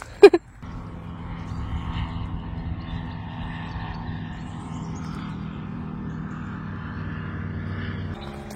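A passing airplane drones steadily overhead for several seconds in an outdoor spot near a camper van, a low continuous rumble after a brief sharp knock at the start.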